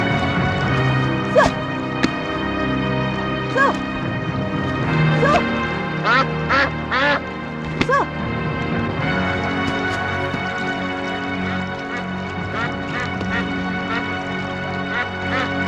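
Loud duck-like quacks and honking bird calls repeat over a busy, layered scene, with a few sharp bursts breaking through and faint voices now and then.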